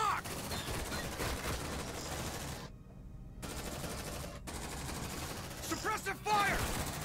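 Rapid automatic gunfire from a military video game, a dense continuous rattle that cuts off briefly, then resumes with game sounds and bursts layered on top.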